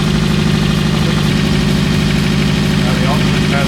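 A Subaru Impreza with a DIY-rebuilt engine idles steadily with a rough exhaust leak, producing a continuous loud, close throbbing rumble.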